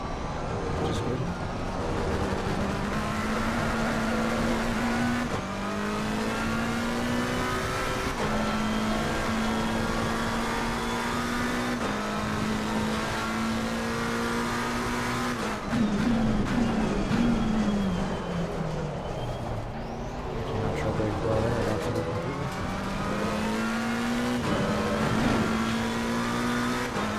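Race car engine in Assetto Corsa Competizione drones steadily through the whole stretch, pitch rising through gears and dropping sharply under trail braking into corners, with repeated upshifts and downshifts.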